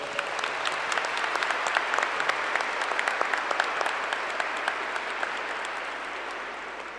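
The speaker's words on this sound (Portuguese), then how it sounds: "Uma salva de palmas às crianças." A congregation at Mass in the Catedral Nossa Senhora dos Prazeres applauds the children with steady, dense clapping that fills the whole stretch at an even level before tapering slightly at the end.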